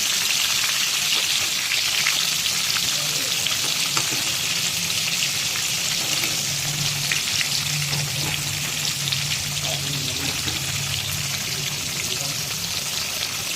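Food fries steadily in a pan on a home stove, a continuous close sizzle and hiss with faint stirring and turning sounds, no voices.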